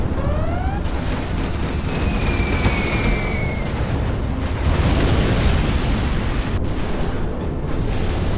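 A nuclear missile blast in the real-time strategy game Command & Conquer Generals Zero Hour, playing as China, rolls out as a loud, sustained roar that holds steady for several seconds with a rumbling low end and a brief crackle partway through.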